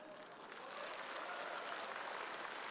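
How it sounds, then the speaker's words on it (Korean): An audience at a forum lecture breaks into applause, a dense, steady clatter of many hands that swells after the first moment and continues without speech. "어떻게 여기 분들은 욕할 때만 박수를 칩니까?"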